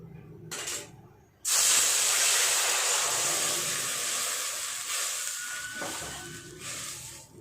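Water poured into a hot wok on the stove bursts into a loud, sudden hiss of steam that stays strong and slowly fades over several seconds, heard alone without talk.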